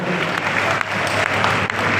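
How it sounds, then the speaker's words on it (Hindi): A crowd at a political event in Kekri applauding an MLA's birthday, dense continuous clapping close and loud throughout, with a faint voice underneath. "एक बार जोरदार ताली बजा के जन्मदिन की शुभकामनाएं भी दीजिए"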